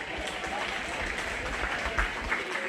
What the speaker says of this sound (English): Go ahead and give those kiddos a big round of applause.